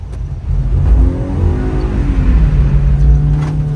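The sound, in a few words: drift car sliding with engine revving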